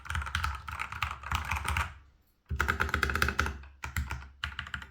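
Steady, rapid typing on a TH66 Pro mechanical keyboard with unlubed switches: dense clacking keystrokes in two bursts separated by a short pause, close and clear.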